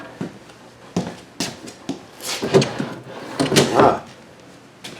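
Drawer in a 2022 Sandpiper 401FLX RV being pulled open and pushed shut, with several distinct wooden knocks and sliding rattles at close range and no talking.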